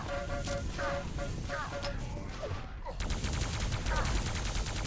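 Rapid buzzing lightning gun fire in a Quake match, dense and continuous over layered game effects, with a brief pause midway before the stream resumes loudly.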